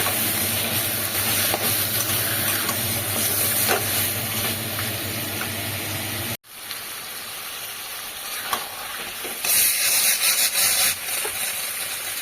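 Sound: mutton sizzling in hot oil and spices

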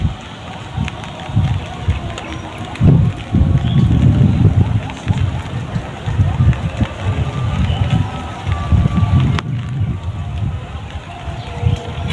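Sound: rain falling

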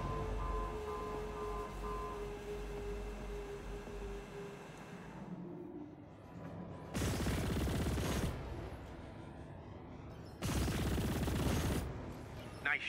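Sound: gunfire in video game Chorus

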